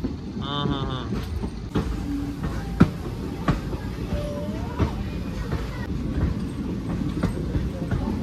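A passenger train runs on the Sakaleshpur to Subramanya railway in Karnataka, giving a steady, loud rumble with regular clacks of wheels over rail joints and a brief voice early on.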